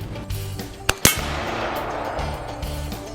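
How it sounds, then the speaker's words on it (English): An AR-15 rifle fires once into a coated metal disc with a sharp, loud crack and a brief metallic impact. A short report echoes after it, nearby and with no talking. "I used an AR-15"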